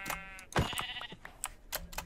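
Sheep in the Minecraft video game bleat several times in quick succession, close and clear, along with soft clicking game sounds.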